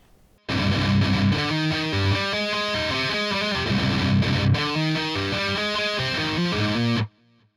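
Distorted electric guitar riff from a metalcore song, loud and dense with chugging palm-muted rhythm and melodic notes, playing steadily for about six and a half seconds before stopping abruptly.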